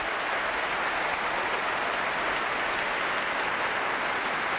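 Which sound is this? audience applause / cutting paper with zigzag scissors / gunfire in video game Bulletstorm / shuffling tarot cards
audience applause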